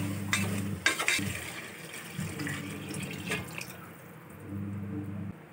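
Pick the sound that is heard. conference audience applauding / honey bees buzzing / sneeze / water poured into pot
water poured into pot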